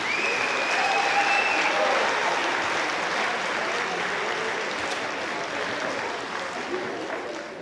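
Audience applause fills a school band concert hall after a middle school spring band performance, a steady dense clapping from a crowd that holds throughout with a few faint whistles early on.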